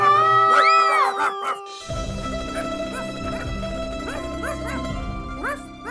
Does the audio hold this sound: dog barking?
yes